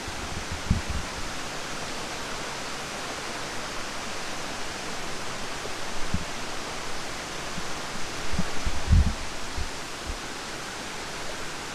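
Clear, shallow river flowing at the top of Salopa waterfall in the dry season, a steady broadband wash of water with occasional low bumps and rustles nearby.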